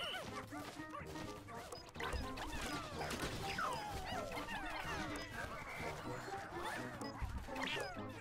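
A dog barks repeatedly amid the clatter and crashes of a Pikmin 4 fight, its yips and barks mid-distance under chaotic game sounds, with speech heard too.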